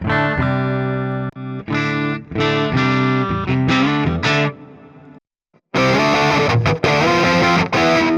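Electric guitar played through a built-in tone preset on a Donner Pocket Go pocket amp-modeler, giving a distorted, effects-laden tone. Chords ring out and cut off in phrases, with a brief silent gap before a loud, sustained final strum.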